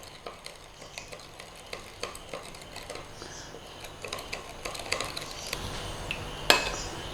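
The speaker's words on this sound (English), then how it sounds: "Now all we need to do is give that a mix." Chili paste being stirred into sweet noodle sauce, giving a steady run of soft scraping and tapping strokes from a utensil against the bowl, fairly close, with a sharper clink near the end.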